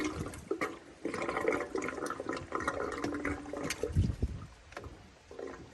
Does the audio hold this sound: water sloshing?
yes